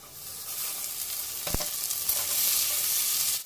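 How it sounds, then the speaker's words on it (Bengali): Tomatoes fry with browned onions in a pan for a bora ghugni recipe, a steady close sizzle throughout with a couple of brief stirring knocks near the middle and no talk. "পেঁয়াজগুলো লাল লাল করে ভাজা হয়ে গেছে। এবার এই সময় টমেটো দিয়ে দিচ্ছি।"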